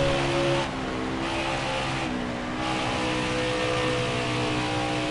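Race car engine in the NASCAR Heat 4 video game at Texas during a qualifying lap, a loud sustained high-pitched roar with steady tonal whine and brief dips as the car pushes through corners.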